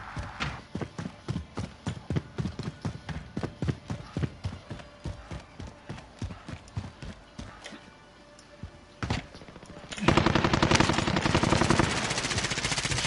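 Gunfire in Warzone on PS4 snaps out as a steady series of sharp, evenly spaced shots, pauses briefly, then erupts into a dense, louder burst of continuous fire near the end.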